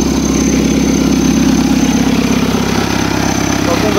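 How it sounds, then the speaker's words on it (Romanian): Small buggy engine idling at a steady, even drone close by, with a constant low rumble and vibration throughout and no pauses. "Aici îi punem contactul, hai să vedem cum pornește."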